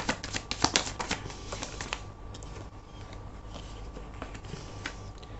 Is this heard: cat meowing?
no